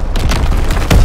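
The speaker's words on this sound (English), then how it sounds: "Incoming enemy artillery!" Enemy artillery barrage in the Call of Duty: WWII video game, a loud, dense rumble of deep booms and crackling blasts with a heavier impact near the end.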